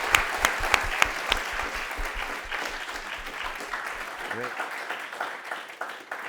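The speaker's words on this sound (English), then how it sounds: "So I want to just give a quick round of applause to the judges." Audience at a teen startup demo day applauding the judges, with dense clapping that starts strong with sharp close claps and gradually thins, while a voice talks over it.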